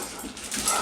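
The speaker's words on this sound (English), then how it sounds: "The dogs are going nuts." Dogs barking and whining excitedly in a home kitchen, a short burst of high whimpers and yips close by.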